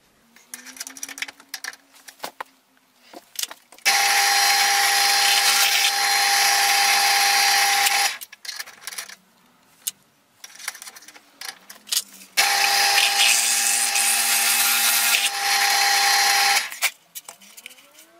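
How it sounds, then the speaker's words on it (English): A power drill whines in two long sustained bursts while drilling a hole in a model hovercraft, separated by quieter handling clatter and shuffling nearby. "So now I should be able to drill this front hole"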